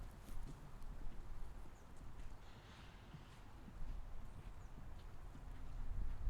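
A cantering horse in a riding lesson sets up a steady, muffled hoofbeat rhythm over wind and low rumble, moderately close and fairly faint.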